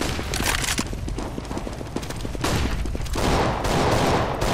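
Rapid bursts of simulated gunfire from a decoy grenade in the game Counter-Strike: Global Offensive, dense and continuous crackling shots with a busy game soundscape throughout.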